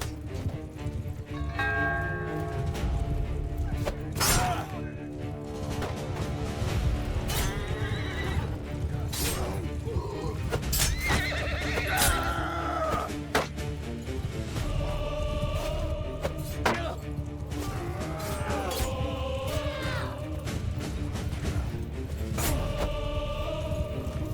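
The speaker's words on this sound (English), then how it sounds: "a quick brawl between the Valerian cavalry and the cavalrymen of the deserters and treacherous men of the enemy clans" Horses neigh and whinny with hoofbeats and clashing thuds through a loud, continuous cavalry skirmish between mounted troops in a video game, dense and busy throughout.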